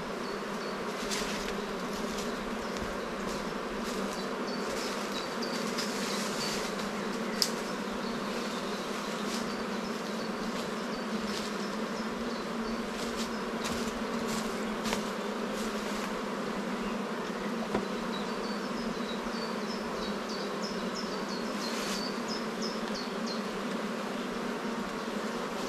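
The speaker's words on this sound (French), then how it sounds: "pour faire monter les abeilles dans la ruche" Honeybees buzz around a hive while being coaxed inside, a continuous dense hum close to the microphone with occasional higher flybys passing over a quiet background.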